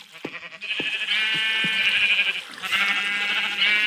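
Several sheep bleat in long, overlapping wavering cries on a sheep farm in a video game, loud and near, with soft thumping sounds underneath.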